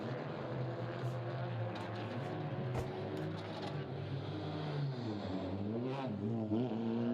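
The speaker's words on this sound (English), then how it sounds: "TCR machines racing off into the Spanish sunset" TCR touring cars racing at the Navarra circuit in Spain, engines droning and rising in pitch as they pass, with gear changes and a sweeping pass-by near the end, under commentary.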